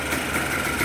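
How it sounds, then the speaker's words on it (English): A Yamaha Blaster ATV engine ticks over at a smooth, steady idle, close by and moderately loud, with no talking. "Oh man, it idles perfectly too."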